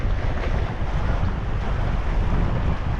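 Surf and gusting wind at a free public beach by a lagoon in Cairns, Australia, a steady loud roar of waves with rumbling wind noise on the microphone throughout, no voices.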